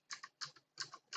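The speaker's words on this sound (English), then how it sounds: "I'm going to start typing" Quick keystrokes on a computer keyboard, a few soft clicks in small bursts, quiet and close.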